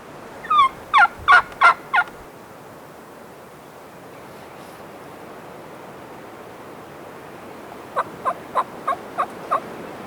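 Rio Grande wild turkey gobblers gobble in two rapid bursts of five or six calls each, separated by a quiet outdoor stretch with a steady broad hiss behind them.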